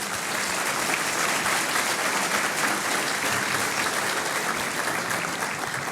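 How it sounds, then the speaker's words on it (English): A luncheon crowd at a mayor's business event applauds its sponsors with steady, dense clapping that holds evenly loud for the whole stretch, no voices rising above it. "Give them a round of applause"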